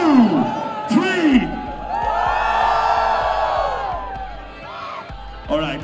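A large college fest crowd cheers, whoops and yells loudly in sustained waves, with shouts rising and falling over a continuous roar and an announcer's voice briefly heard.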